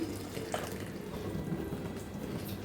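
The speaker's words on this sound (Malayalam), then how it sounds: "കുറച്ച് വെള്ളം ഒഴിക്കട്ടെ കേട്ടോ" Water is poured into a pot of mango curry on the stove, a soft steady splashing trickle with a few faint drips, close by and without talk.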